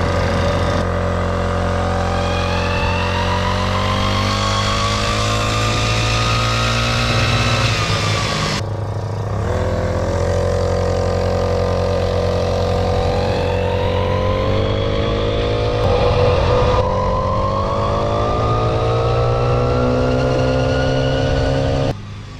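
A 49cc gas scooter engine drones steadily while riding at roughly 25 miles an hour, its buzzing tone rising and falling with throttle changes and a brief dip midway, close and loud throughout.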